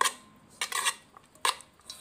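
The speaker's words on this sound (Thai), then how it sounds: "มือขวาก็จะใช้ตะเกียบคน" Chopsticks stir instant noodles with pickled fish in a bowl, producing a few close, light clinks and scrapes in short bursts, with no talk.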